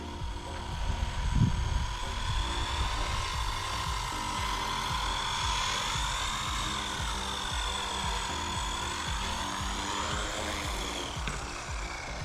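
A Blade 150fx RC helicopter flies in to land, its steady whining rotor and motor drone holding close and constant, with the pitch sweeping up and down as it manoeuvres.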